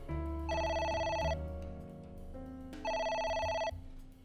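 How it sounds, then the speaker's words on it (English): A telephone in the video game AI: The Somnium Files rings in two bright electronic bursts separated by a short pause, loud and clear over a low musical backdrop. "It won't stop ringing."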